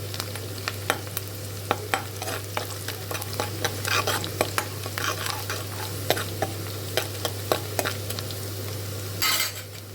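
Tomatoes fry and sizzle in a pan for gravy, stirred with a utensil in frequent scrapes and clinks over a steady hiss, with a constant low hum throughout.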